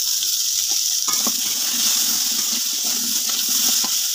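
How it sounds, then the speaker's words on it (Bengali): Potato pieces fry in hot oil with salt and turmeric, giving a steady, loud sizzle and hiss throughout, broken by occasional soft clinks and scrapes of stirring. "এবার আমি ওই তেলের মধ্যে আবার সেই আলুর টুকরোগুলো দিয়ে ভেজে নেব, ভালোভাবে নাড়াচাড়া করে নুন আর হলুদ দিয়ে।"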